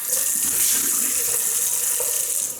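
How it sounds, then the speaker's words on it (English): Water runs steadily from a tap for rinsing after a shave, a close, continuous splashing gush. "Let's rinse off."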